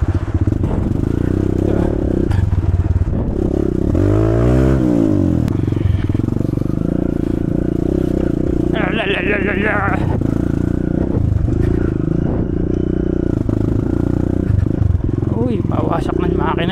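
A Kawasaki KLX140RF dirt bike engine runs while being ridden outdoors, a loud continuous drone with a rising-and-falling rev sweep and rattling clatter, and a voice speaks briefly over it.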